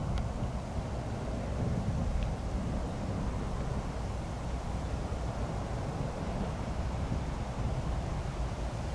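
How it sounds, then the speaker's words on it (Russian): Strong, warm southern wind blows steadily outdoors beside the flooded Moksha River at its spring peak, a continuous low rushing roar buffeting the microphone with no voices. "Ветер сегодня очень сильный."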